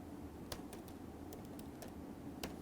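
Code typed on a computer keyboard, scattered soft key taps spaced irregularly over a steady faint background hum, with no talk.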